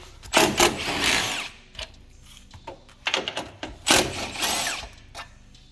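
Several short whirring bursts from a power tool remove 10mm and 8mm bolts from the support panel of an S197 V6 Mustang after the bumper is off, with pauses and clatter between runs.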